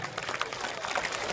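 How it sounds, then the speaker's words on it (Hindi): A crowd at a Jan Suraaj political gathering in Bihar applauds steadily, a dense, continuous patter of many hands clapping at moderate volume throughout. "ताली रुकनी नहीं चाहिए, कम से कम 2 मिनट ताली बजनी चाहिए"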